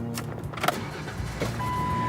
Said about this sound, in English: When starting your vehicle, there's no need to depress the accelerator to get the engine going.